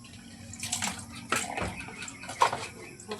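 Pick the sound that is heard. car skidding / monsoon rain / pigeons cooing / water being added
water being added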